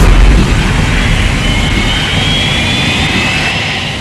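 Reverse thrust on the Fireflash jet airliner from the Thunderbirds television series: a loud, close roar of jet engines with a hissing rush that slowly eases over a few seconds.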